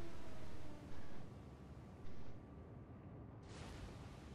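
Yamato battleship main guns firing in a naval video game: two short, heavy booms about a second apart, followed by a swelling roar of broadband noise near the end of the clip.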